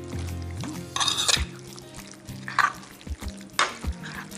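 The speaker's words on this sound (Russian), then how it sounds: "Все перемешала теперь, успокоилась." Vegetable oil is stirred into a lavash pie mixture in a bowl, giving a few bursts of wet scraping and mixing, separated by quiet pauses and soft knocks.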